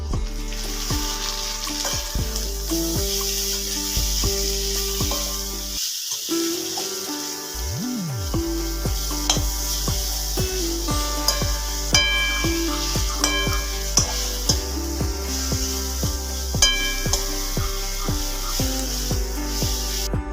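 Ginger garlic paste sizzles loudly in a pan over a wood-fired stove as it is stirred, a steady crackling fry with rhythmic scraping strokes throughout, broken by a brief quiet moment near the middle.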